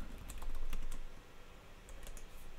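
Rapid typing on a computer keyboard while an album cover is designed, crisp clicky keystrokes in close bursts with a brief pause midway, no voices.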